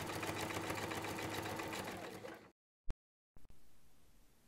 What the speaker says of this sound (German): Das wird dann mit 1 cm Nahtzugabe zum Rand auf dem Vlies festgenäht.